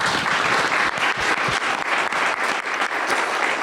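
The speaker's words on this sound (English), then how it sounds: "A well-deserved round of applause for our moderator and all of our panelists." Loud, sustained applause from a large crowd, dense clapping filling the whole stretch without pause.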